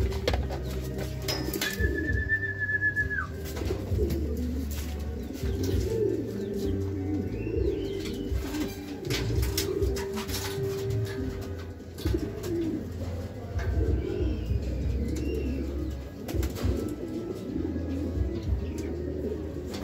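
Racing pigeons back at the loft after a 220 km derby race from Aringay, La Union to Pasig City coo softly and repeatedly, with occasional chirps from other birds nearby and faint background noise.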